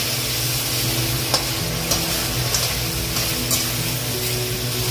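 Green chilli chicken frying in a pan with soy sauce and white vinegar, stirred continuously: a steady, close sizzle with soft scraping clicks of the spoon every second or so.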